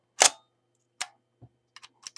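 Shutter of a Kiev 6C medium-format film camera under repair, released several times: a sharp loud mechanical clack, then a softer click about a second later, followed by a few small light ticks and clicks, close and alone.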